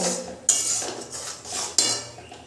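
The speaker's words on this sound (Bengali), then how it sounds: "এবার আমি মশলাটা ভালো করে কষিয়ে নেব" A metal utensil clanks and scrapes around a pan as spices with salt and turmeric are stirred and fried. Two sharp knocks stand out over a softer, uneven scraping, close by and without voices.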